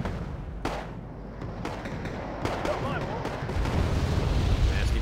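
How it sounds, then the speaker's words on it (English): Bombing-run explosions from the Wargame: AirLand Battle game boom in several heavy thuds over a rumbling battlefield, the blasts close and loud, with a low roar building toward the end. "Nasty bombing run."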